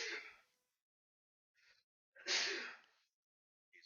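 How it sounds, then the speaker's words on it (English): A person sneezes in a workshop after kicking up dust from a drawer, a sharp close burst followed by a short breath and a second loud sneeze, with quiet gaps between. "I'm going to sneeze."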